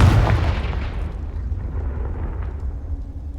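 A Confringo fire spell bursts in the video game Hogwarts Legacy: one loud, deep booming blast at the start that rolls off into a long rumbling decay, with no voices.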